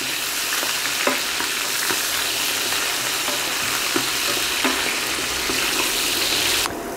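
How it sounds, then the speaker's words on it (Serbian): Continuous crackling sizzle of carrots frying in a hot pan, with occasional light clicks of stirring. "I sada u tigen dodajem šargarepu i pržim je dok i ona 5 minuta ne omekša."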